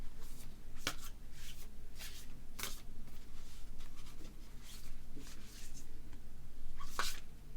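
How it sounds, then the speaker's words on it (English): A deck of tarot cards is shuffled repeatedly up close, with quick riffling bursts and soft slaps at an irregular rhythm, no voices. "just give me a couple of seconds to shuffle this deck"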